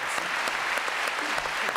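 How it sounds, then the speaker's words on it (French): TV studio audience applause on a French talk show, a dense, even wash of many hands clapping at once, sustained and moderately loud without pause. "Applaudissements pour Rémi Musca"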